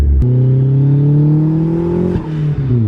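A turbocharged Mazda Miata engine revs loudly up close, its pitch climbing steadily, then a sharp blow-off valve release and a quick whooshing hiss as the revs drop.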